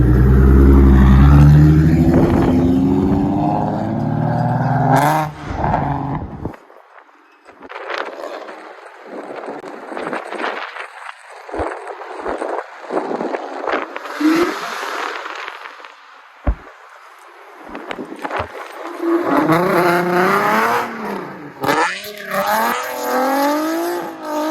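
A G37 slides at night with its engine revving hard and tires squealing in long rising and falling screeches. Loud, close, bursting from a brief lull, with a strained engine drone returning near the end.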